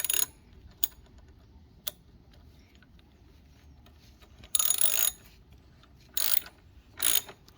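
Ratchet bursts on a nut of a Sur-Ron electric pedal kit being installed, several short loud clicking runs, the longest about half a second, with brief ticks between them and quiet gaps, close up with no talk.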